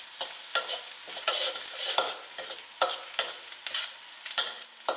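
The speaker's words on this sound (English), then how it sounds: "Fry until slightly golden." Garlic frying in a pan until slightly golden, a soft continuous sizzle broken by repeated scraping stirs of a spatula at an uneven rhythm, close and moderately quiet.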